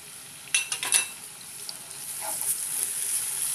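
Tomato and ginger-garlic paste frying in a pan for chicken akhni pulao, a few sharp clinks of a spoon against the pan, then a soft, steady sizzle that gradually builds, close and fairly quiet.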